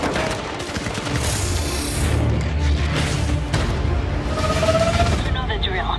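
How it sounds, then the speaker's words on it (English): Rapid bursts of gunfire crackle and boom continuously in a game scene, loud and close, with voices talking over the shooting. "I got gunfire."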